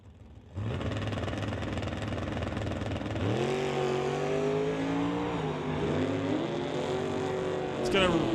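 NHRA drag race cars, a Pontiac and an Acadia, roar down the strip at a Summit ET finals race, a loud sustained engine drone rising in pitch as they accelerate and pass.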